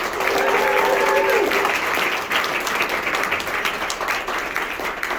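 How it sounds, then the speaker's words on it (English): An audience at a storytellers' art gala gives a feats-of-strength performer a big round of applause, with loud, continuous clapping filling the room and a voice briefly heard early on. "One more big round of applause for Rick StrongBack"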